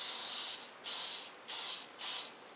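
Four short hissing bursts from a spray can of canola oil coating the inside of a plastic food container, evenly spaced about half a second apart, close and clear.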